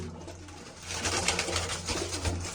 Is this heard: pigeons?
yes